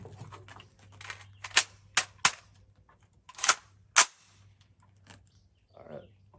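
ATI AR-15 pistol with a 7.5-inch barrel and scope fired outdoors, several sharp loud shots in an uneven rhythm, some in quick pairs, with brief quiet gaps between them.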